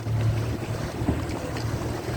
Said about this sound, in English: The wind has picked up just a little bit.